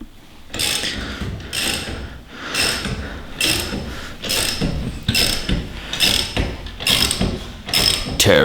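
Ratchet wrench tightening a ball joint press C-clamp on a Jeep Wrangler JK, rapid metallic clicking in about eight regular strokes, each a burst of ratcheting followed by a short pause, close and loud.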